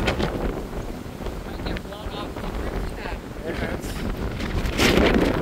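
Strong wind gusting outdoors on an exposed spot, roaring and buffeting against the microphone in a steady rush that swells louder near the end, with people talking in the background.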